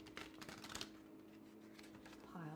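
Tarot cards being shuffled, a soft riffling patter that flutters close by for a couple of seconds, fairly faint over a low steady hum.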